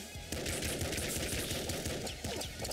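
The slugger shotgun firing in the video game Nuclear Throne, dense and loud with rapid repeated blasts and gritty crackle, layered over game music for the whole short stretch.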